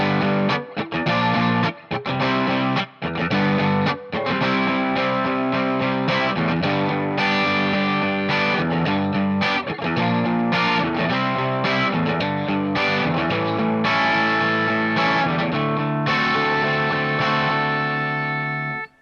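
Distorted electric guitar plays a key-change passage starting from G, strummed chords ringing loud and steady for nearly twenty seconds, with a few short stops near the start and no talking.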